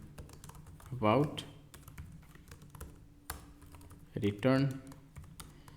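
Keys clatter steadily as code is typed on a computer keyboard for a Next.js page component, a close run of quick clicks under someone speaking Hindi.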